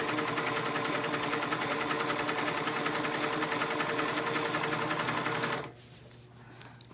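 A Highlead industrial zig zag sewing machine runs steadily at speed, a dense, even mechanical whir and needle chatter close by for several seconds before stopping abruptly, leaving quiet room tone with small handling clicks.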